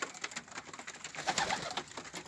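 Pigeons coo softly in a cold outdoor setting, a few gentle overlapping murmuring calls close by, with nothing else heard.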